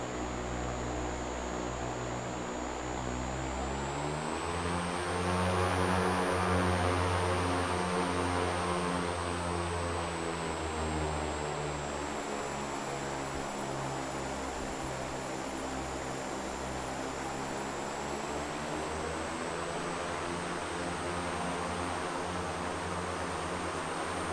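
The twin Garrett T76 turboprop engines of an OV-10 Bronco in Microsoft Flight Simulator hum with a steady, loud broadband roar, a high whine overhead and droning propeller tones that swell slightly partway through.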